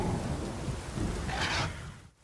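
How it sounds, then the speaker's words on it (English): A thunderstorm in the video game The Witcher 3: a continuous wash of heavy rain with a low rolling rumble of thunder throughout, swelling briefly near the end before fading, with no voices. "A storm, damn it."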